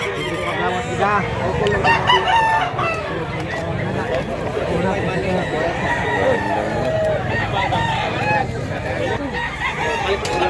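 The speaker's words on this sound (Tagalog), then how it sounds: "Daming manok dul." Roosters crow and chickens cluck at a poultry sale in Mantalungon, Cebu, with repeated crows rising over a busy, crowded mix of bird calls and overlapping human chatter nearby.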